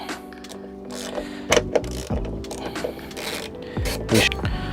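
Close ratchet clicks while removing 10mm bolts from the door check strap on a Land Rover, short bursts of clicking with light metallic knocks and no talking.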